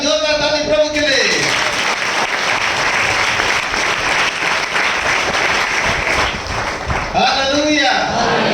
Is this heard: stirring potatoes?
no